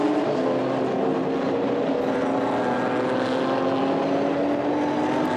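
GT4 European Series race cars roar around the Nürburgring's Mercedes Arena, with a steady, dense engine drone and blended exhaust tones sustained throughout.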